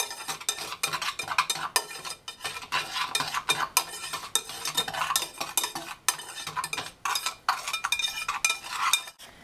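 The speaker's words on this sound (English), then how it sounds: "I'm going to whisk these together until they're well combined" A small whisk beats dry ingredients together in a bowl for vegan vanilla pudding, a fast, continuous rhythm of scraping and light metallic clinks, close and busy, with no talk.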